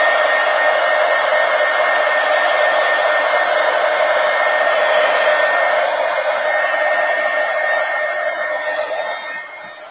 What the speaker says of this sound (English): Let me hit that with the heat gun so I don't make a big mess.